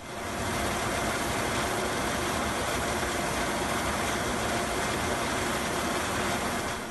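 A steady, dense mechanical roar with a high whine on top, an aircraft auxiliary power unit running continuously at close range, with no voices.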